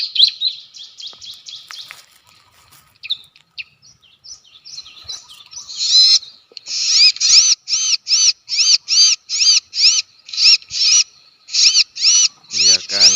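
Recorded ciblek bird calls played from an MP3 player while luring wild birds: a rapid series of high, bright chirps, sparse at first and then a dense, steady run of repeated notes, loud and close, with no talk over them.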